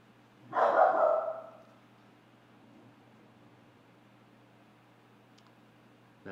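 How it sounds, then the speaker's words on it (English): A single dog bark, loud and close, fading over about a second into a quiet indoor room with a faint steady hum and no talking. "That's my doggy Zeusie"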